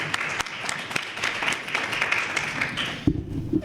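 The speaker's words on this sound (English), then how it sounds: "Once again, another round of applause for them." A live audience at a university debate on religion applauds the visiting debaters from California, a dense, steady wash of many hands clapping for about three seconds before it suddenly cuts off into a low hum.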